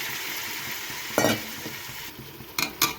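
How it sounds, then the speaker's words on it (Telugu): Chicken is stirred through fried tomatoes in a pan over a constant low sizzle, with one scraping stir sweep and two quick metallic scrapes near the end. "చికెన్ బాగా కలిపేసి సిమ్లో పెట్టుకొని మూత పెట్టేస్తున్నాను"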